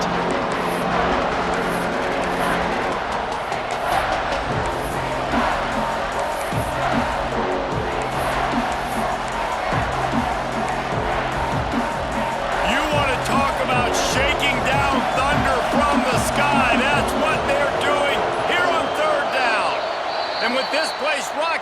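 A stadium crowd roars steadily in EA Sports College Football 26, with a dense din of cheering and noise running under an announcer's commentary, plus occasional thumps and swells.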